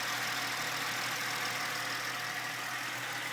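A Ford Mustang engine idles with an HHO hydrogen assist fitted, giving a smooth, even, steady hum that holds constant throughout without any voices.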